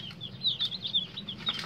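Day-old chicks peep in a rapid, high chatter while feeding, with quick overlapping chirps close by and low rustling underneath; no speech.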